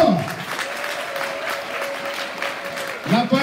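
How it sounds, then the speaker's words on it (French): A church congregation applauds during a worship service, with loud, dense, sustained clapping close by while a voice speaks loudly over it. "On acclame le Seigneur plus fort"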